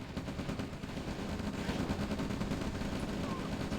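Gunfire during an attack in the Red Alert strategy game: dense, continuous rattling of small-arms and machine-gun fire, steady and fairly low in level throughout.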